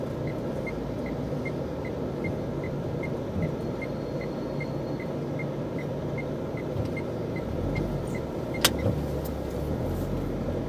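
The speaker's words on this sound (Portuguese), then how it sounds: "Pensei que esse carro estava saindo." A car drives past along the Meireles beachfront in Fortaleza, Brazil, with steady road and engine noise and a faint regular beeping throughout.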